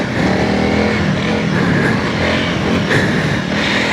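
A Honda CRF300L Rally dual-sport motorcycle engine runs steadily and loudly throughout, a continuous close drone with slight swells in pitch, no voices over it.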